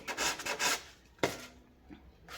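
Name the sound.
sanding wood with fine 1200-grit sandpaper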